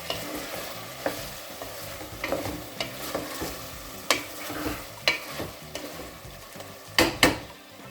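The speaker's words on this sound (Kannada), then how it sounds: "ಸೊ ಸ್ವಲ್ಪ ಚೆನ್ನಾಗಿ ರೋಸ್ಟ್ ಆಗಲಿ ಅದನ್ನು ಒಂಚೂರು ಆಯಿಲಲ್ಲಿ" Three boiled eggs roast in a little oil in a pan while making green chicken pulao, a soft sizzle running beneath repeated sharp scrapes and taps of a spatula stirring them, close up and without talk.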